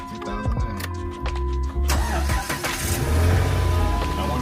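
Engine of an old 2009 police car turning over and running steadily, loud and close inside the vehicle with a low rumbling idle and slight revving.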